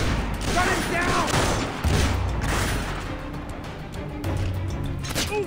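Sustained gunfire and explosive bursts from the stealth shooter game Splinter Cell: Conviction, a loud continuous barrage with booms, mixed with shouting game voices.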